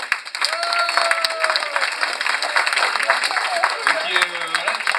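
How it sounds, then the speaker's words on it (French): Applause from a crowd of diners at a political party gathering in Charleroi, clapping for the cook. Dense, steady clapping fills the whole stretch with voices mixed in. "je propose un applaudissement à tout rompre pour Philippe Jamin"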